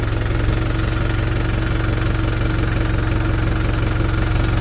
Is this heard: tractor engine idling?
yes